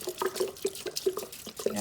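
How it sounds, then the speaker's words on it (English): Liquid pours over herbs in a jar while homemade Florida water is mixed, a soft trickle broken by a regular series of small splashes and drips, close and quiet, with no voices. "So we're going to pour this over and let it cover."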